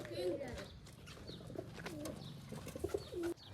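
Pigeons coo in short, repeated throaty phrases close by, a pair of newly acquired American pigeons kept in a home setup, with people talking over much of it.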